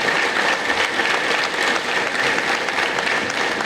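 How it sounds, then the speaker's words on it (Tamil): Dense, sustained applause from a large audience at a 2024 YMCA debate event, steady and loud throughout with no break. "கைத்தட்டு பத்தாது"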